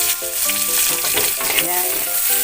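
Onion frying in oil in a pan for pinakbet, a loud, close, continuous sizzle with some stirring, no talk.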